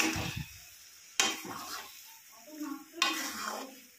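Stirring of lote (Bombay duck) fish frying dry in a pan with a metal spatula: repeated scraping strokes over a steady sizzle, with two sharp loud scrapes against the pan, close up and without talk.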